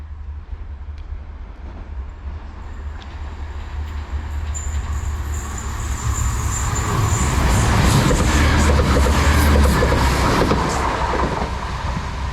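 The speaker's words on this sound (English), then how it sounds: "coming through now, we've got a turbo heading to Gatwick Airport" Class 165 Turbo diesel multiple unit passing through a station on a Reading to Gatwick Airport service, its rumble swelling from a distant approach into a loud, steady roar of engine and wheels with a high-pitched whine, no talking.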